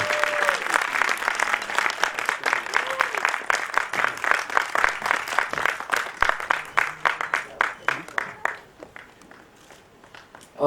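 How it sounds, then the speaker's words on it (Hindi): An audience claps for artists heading onto the stage at a music launch event, loud, sustained applause with distinct individual claps that thin out and fade toward the end. "Keep clapping till they get up on stage."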